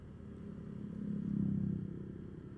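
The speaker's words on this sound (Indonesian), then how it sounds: "XL7 Expander lagi lewat." Suzuki XL7 or Mitsubishi Expander passing on a scenic mountain road between Sarangan and Tawangmangu, a steady engine hum swelling to a peak midway and fading again, moderately near.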